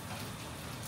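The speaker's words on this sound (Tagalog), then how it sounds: "Pero ngayon, bakit umuulan?" Rain falls in Seoul as a steady, dense hiss of drops, loud and continuous throughout with no talking.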